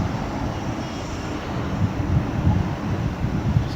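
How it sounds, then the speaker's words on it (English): Two planes taking off simultaneously from parallel runways at DFW International Airport: continuous heavy engine rumble and roar, swelling slightly toward the end, with wind buffeting the microphone and no talking. "we have planes taking off simultaneously"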